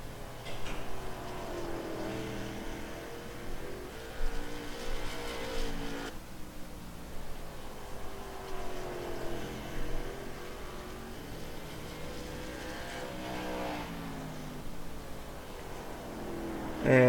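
Late model race cars lap South Boston in the Fascar sim racing game, engines droning and rising and falling in pitch as the cars accelerate and pass, a continuous mid-level roar with no talk.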